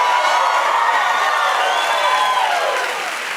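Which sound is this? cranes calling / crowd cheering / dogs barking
crowd cheering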